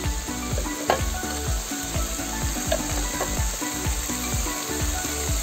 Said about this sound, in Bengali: এটা যত সময় ফ্রাই করবো টমাটোটা ভালো করে ফ্রাই না হয়ে যাবে কাঁচা ঘ্রাণ চলে যাবে